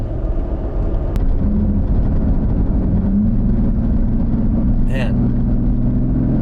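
Car engine fitted with a K&N NextGen cold air intake running at about 45 mph near 3,500 rpm, a steady loud drone that shifts pitch as revs change, with someone talking over it.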